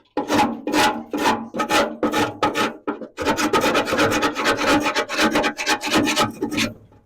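A scraper rasps gunk off the grill of a Weber Genesis E330 BBQ in close, loud strokes: a short rhythmic series of separate scrapes, a brief pause, then a faster run of back-and-forth rubbing.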